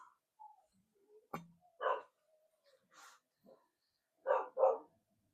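Dogs barking indoors in a quiet room, a few sharp barks and short double bursts spaced over several seconds, moderately close, with soft whimpers and small noises between them.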